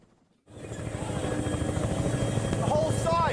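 A helicopter in flight, a steady low rotor thrum and engine drone that starts abruptly and holds loud and continuous, with faint voices behind it.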